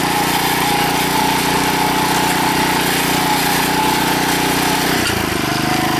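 Ryan Lawnaire IV 18-inch walk-behind core aerator with a Honda engine runs steadily and loud at close range, with a brief dip in pitch near the end as the tines engage the lawn.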